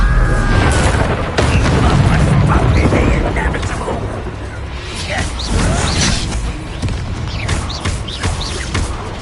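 Spell blasts crash and boom almost nonstop in Hogwarts Legacy, a loud, dense barrage of booms, whooshes and bursts with shouted voices mixed in.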